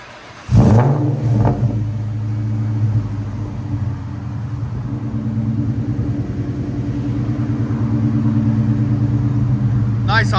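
Supercharged 4.6-litre V8 of a 2003 Ford Mustang SVT Cobra with headers and Borla exhaust, starting up near and loud, then settling into a steady, slightly lumpy idle rumble.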